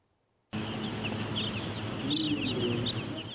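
Three-day-old chicks in a warm poultry house make a dense, continuous chorus of high chirps that starts abruptly and stays loud, with no talking.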